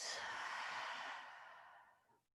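A long, slow exhale during a yoga class, breathy and close, starting strong and gradually fading away to quiet over a couple of seconds.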